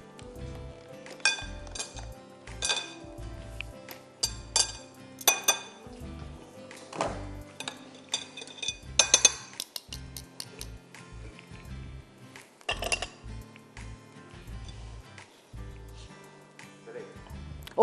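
Metal utensils clink and tap repeatedly against a bowl while a cake batter is mixed for a carrot cake, irregular clinks and thuds at close range, with a few sharp louder knocks.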